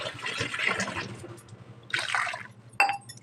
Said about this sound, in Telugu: మళ్ళీ మంచినీళ్ళతోటి ఒక 2 గ్లాసులు వాటర్ పోసుకొని పక్కన పెట్టుకున్నానండి.